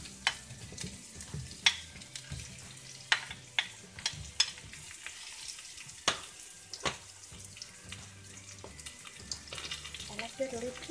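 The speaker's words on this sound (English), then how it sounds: "And we'll add the zucchini now." Zucchini fries in a pan with garlic and ginger, a quiet sizzle broken by sharp clacks of a spoon stirring and scraping at irregular intervals.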